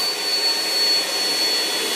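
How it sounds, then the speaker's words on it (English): A vacuum cleaner runs steadily at close range in a hair salon setting, a loud, continuous broadband whine with a thin high tone on top, holding even for the whole stretch with no talk over it. "just turn the vacuum off"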